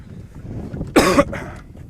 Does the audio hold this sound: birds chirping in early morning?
no